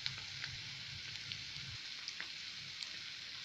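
Bread pakoda fries in oil in an iron kadhai over a medium flame, a soft, steady sizzle with light intermittent pops, heard close up with no talking.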